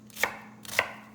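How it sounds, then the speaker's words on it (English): A knife chops vegetables on a cutting board in two crisp, evenly spaced strikes, close and clear with no talk. "Okay, I'm going to do a chop."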